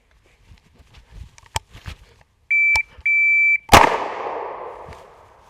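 A shot timer's electronic buzzer sounds in two sharp, steady tones, immediately followed by a single loud, cracking 9mm shot from an IWI Uzi Pro submachine gun that rings out and decays.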